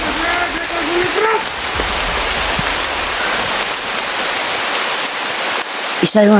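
Very heavy rain pours down as a loud, steady broadband hiss throughout, with a voice briefly talking near the start and a sharp knock near the end.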